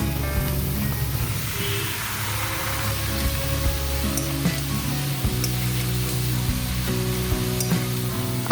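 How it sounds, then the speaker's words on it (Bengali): Cut potatoes fry in a pan over a gas flame turned up high while cooking dhundul posto, a loud, steady, unbroken sizzle that lasts the whole time. "এবার গ্যাসের ফ্লেম বাড়িয়ে আমি আলুগুলো ভেজে নেব।"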